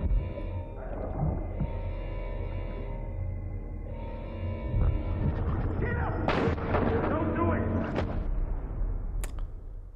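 Gunfire in Death Stranding rings out as heavy booming reports over a low rumbling game soundscape, with a few sharper cracks later on and a voice talking faintly underneath.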